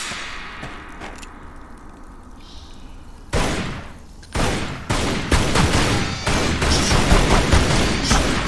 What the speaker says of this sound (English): Here we both get to shoot some bats for the first time.